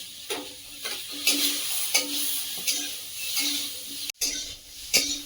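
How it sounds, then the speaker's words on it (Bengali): Bitter gourd and eggplant fry in a pan with a steady, close sizzle, while a spatula stirs and scrapes in regular strokes roughly every half second. No one speaks. "উচ্ছে বেগুন ভেজে নিয়েছি"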